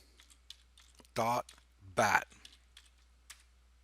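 A computer keyboard clicks lightly as a file name is typed in Windows: sparse, quiet keystrokes, with two short bursts of voice partway through.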